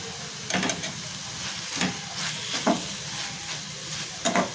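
Cooked leafy greens with crushed peanuts sautéed in a pan, a steady gentle sizzle with a few scraping stirring strokes spaced about a second apart, close and fairly quiet.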